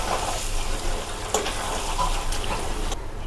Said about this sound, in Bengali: তো বন্ধুরা খুব অল্প পরিমাণে একটু জল দিয়েছি